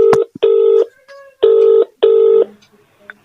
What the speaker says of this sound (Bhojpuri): अच्छा अबे रुक लगाव तनी कलानी सुरेंद्र भैया तर फोन